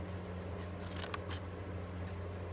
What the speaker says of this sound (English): now I'm going to cut up on those score lines here